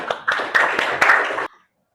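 Children in a classroom clap their hands together in a short rhythmic burst, a few sharp grouped claps close by, ending abruptly into silence.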